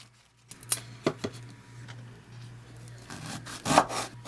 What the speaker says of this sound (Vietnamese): Còn phần đuôi sả thì đập dập ra.